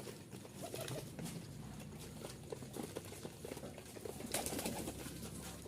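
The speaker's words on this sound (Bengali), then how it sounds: "এগুলো সবগুলো উড়নবাজির কবুতর।" Flying pigeons kept for aerial sport coo softly in a low, throaty murmur amid faint rustling and shuffling, a quiet, steady flock sound with no voices.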